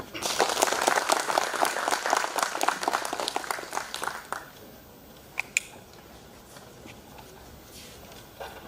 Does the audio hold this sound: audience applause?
yes